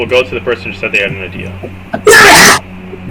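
One loud, sharp sneeze bursts out near the end, right after someone speaks in a casual tabletop role-playing session.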